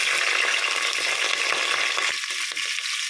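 Green chilies tossed into hot oil for a jackfruit biryani make a loud, steady close-up sizzle with fine crackling that runs unbroken for the whole stretch, with no one speaking.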